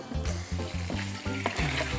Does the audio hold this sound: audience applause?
no